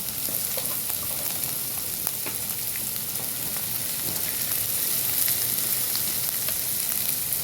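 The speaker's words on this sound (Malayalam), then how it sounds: "ഒപ്പം തന്നെ പച്ചമുളക് ഇട്ട് കൊടുക്കുന്നുണ്ട്. ഇനി നന്നായിട്ടതൊന്ന് മൂത്ത് വരട്ടെ." Shallots and green chillies fry with turmeric in an oiled pan for a curry, a continuous dense sizzle with faint crackles and occasional stirring scrapes, close and steady throughout.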